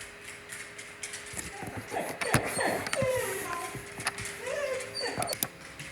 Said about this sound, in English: I don't know what my dog's seeing there